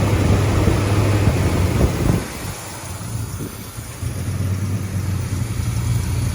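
A 1967 GTO engine runs close by with a steady low rumble, briefly dipping before settling back into an even idle after the choke is disengaged.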